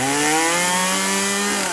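Chainsaw running outdoors in midwinter, held by a woman working at her home, a steady loud droning whine with slowly shifting pitch throughout, close and continuous with no other sounds.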